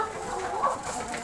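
Chickens cluck softly and briefly in a farm coop, with low-level barnyard murmur around them.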